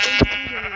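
A single short Minecraft sheep bleat, close and clear, over a faint steady background hum.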